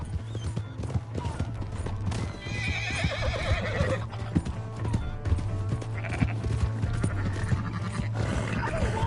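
A horse in the video game Red Dead Redemption 2 whinnies loudly while hooves pound in a fast galloping rhythm, set against a low steady drone and game sound effects.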